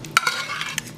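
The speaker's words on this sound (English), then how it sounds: "So now we're going to add our meat mixture" Meat mixture for shepherd's pie spooned into a dish: a brief wet scrape and clink of a utensil against cookware, with soft stirring sounds, close by.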